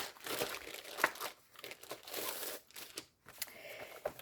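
Paper crinkling and rustling close by while Winnie the Pooh themed stamps are unpacked, an irregular run of crumples and crackles with brief pauses and no talk.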